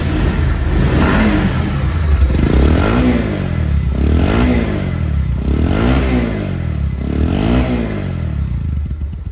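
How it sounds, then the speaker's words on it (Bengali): A second-hand Bajaj Pulsar motorcycle engine runs loud and close, with a steady rough idle that swells in several rhythmic revs. "সাউন্ডটা দেখেন, রানিং অবস্থা আছে গাড়িটা"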